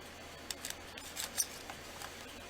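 A blade slicing through a block of polymer clay gives faint, short, crisp snips and clicks, several in a row, close and quiet against a hushed room with no talking.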